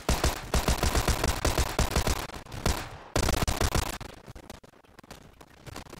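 Gunfire in PlayerUnknown's Battlegrounds, loud sustained bursts of rapid shots with sharp repeated cracks, briefly pausing and then resuming and trailing off into scattered reports.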